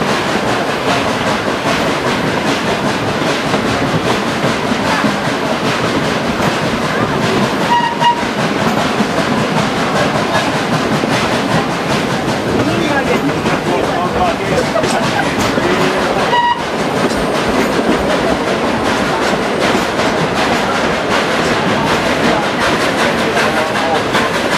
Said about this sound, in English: the sounds of that locomotive as she pulls us through the foothills